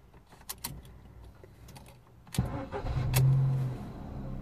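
A 2005 Ford Fiesta starts up: a few key and switch clicks, then the starter cranks and the engine catches and settles into a steady close idle.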